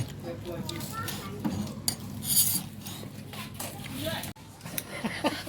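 Beef is sliced by hand for Thai beef koi, with repeated knife taps, clinks and scraping against a board and dishes, close by while people talk over the work.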